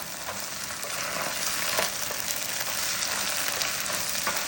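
Onion, garlic and tomato paste frying in a pan while being stirred, a steady close hiss of sizzling oil with light scraping strokes throughout.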